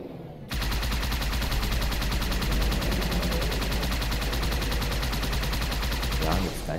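Gunfire in the video game Halo 2 Anniversary on PC, a loud dense burst of rapid shots starting abruptly and continuing almost unbroken.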